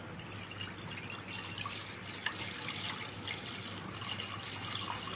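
Boiled milk poured into a kadhai on a gas stove, a faint steady liquid pour and trickle throughout with no talk.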